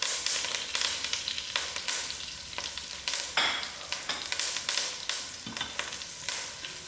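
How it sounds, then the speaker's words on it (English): Thyme and curry leaves fry in hot oil in a pot for lamb biryani, a bright continuous sizzle broken by repeated stirring scrapes, close and fairly loud with no voices. "Allow this to fry for a few seconds."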